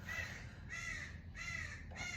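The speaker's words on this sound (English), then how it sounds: "Sorry about the crows, they're super chatty sometimes." Crows cawing outdoors in a steady repeated series of three or four harsh calls, fairly faint and distant, with no talk.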